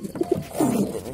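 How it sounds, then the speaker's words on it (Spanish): A pigeon coos at close range in a loft, two short soft throaty notes followed by a longer rolling coo, with no talk over it. "La paloma."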